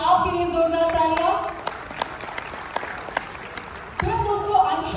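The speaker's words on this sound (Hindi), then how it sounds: "Let's have a huge round of applause to that" A crowd claps for a few seconds with someone speaking over the start, the applause thinning to scattered claps before the voice returns over renewed clapping.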